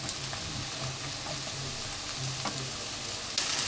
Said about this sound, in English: what we want to do with these onions is to cook them on a medium to low heat until they are translucent